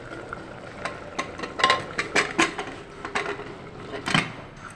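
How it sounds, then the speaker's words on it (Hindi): A metal lid is fitted onto a pressure cooker holding vegetable tehri, making close, sharp clinks and scraping knocks in irregular bursts with no talking. "ढक्कन लगाते हैं इस पर"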